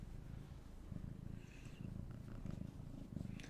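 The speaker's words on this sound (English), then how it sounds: "Can you hear the purrs?" A cat purrs steadily up close, a low rumbling rhythm that rises and falls with each breath, with faint clicks and rustles in the background.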